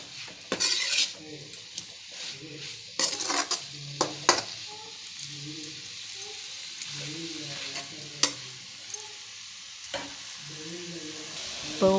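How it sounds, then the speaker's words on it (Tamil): Cauliflower fry being stir-fried in a pan, with a steady sizzle under repeated scraping and clinking of a spoon against the metal, strokes coming in irregular bursts close by. "சிம்மில் வேக விடுறதுக்கு முன்னாடி அதை நல்லா நீங்களே கையில் நல்லா வதக்கி விட்டுக்கோங்க."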